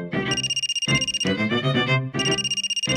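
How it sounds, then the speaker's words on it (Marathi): A telephone rings indoors, its bright electronic ringtone repeating in three loud, close bursts separated by short pauses, with nothing else audible. "फोन वाजतोय"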